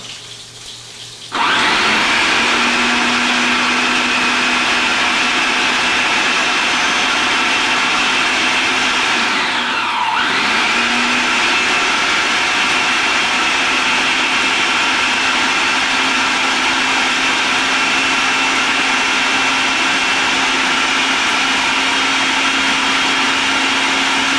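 A food processor starts abruptly and runs as one long loud whirring burst on caramelized onions, with a short dip in pitch near the middle before the motor drones on steadily to the end.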